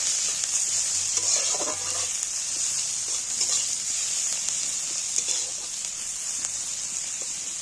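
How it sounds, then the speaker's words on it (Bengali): Chopped onions and whole cumin seeds frying in ghee in a pan give a steady, close, loud sizzle throughout, with occasional stirring scrapes and no talking. "গোটা গোটা জিরে দিচ্ছি এবার পেঁয়াজগুলো দিয়ে দিচ্ছি"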